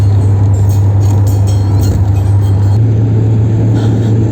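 Steady, loud engine and road drone from inside a car on a hitchhiked ride in Iran after crossing the border, continuous throughout with no talking.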